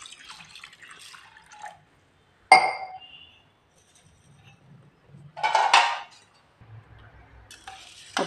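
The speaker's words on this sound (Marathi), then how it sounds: "आता भिजण्यासाठी थोडं पाणी आपण याच्यामध्ये ओतूया।" Water is poured over soaking green mung beans in a bowl, two short splashing pours separated by silence, with light clinks of the container, close and clear.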